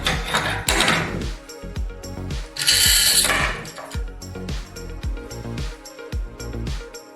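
Binder clips being screwed onto a wall, a rapid run of clicking, ratcheting tool strokes with short metallic pauses between them, close and fairly clear, with no talking.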